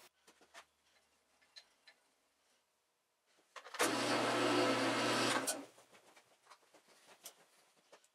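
A machine drill bores a first hole into metal in a workshop, a dense steady whir rising suddenly, holding for about two seconds, then stopping, with faint clicks and handling taps before and after.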